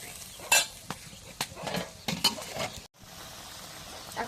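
Ground cumin paste and garlic fry in a pan with a soft steady sizzle, broken by sharp scrapes and clatters of a spatula stirring against the metal, with one brief dropout partway through.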